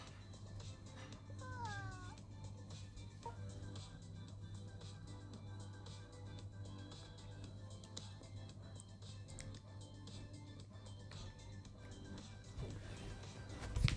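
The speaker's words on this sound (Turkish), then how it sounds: "Van kedisi aldım lan." A Van cat meows a few times, a rising wavering call early on, faint over a steady background hum indoors.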